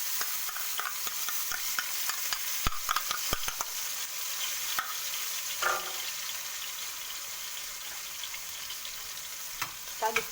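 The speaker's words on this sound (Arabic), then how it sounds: "هننزل على الزيت بالدقه الحلوه دي اللي هي ايه، توم على قرن فلفل" Crushed garlic and chili paste hitting hot oil for Egyptian koshari, a close, steady crackling sizzle with sharp spatter pops and utensil taps early on, no talking.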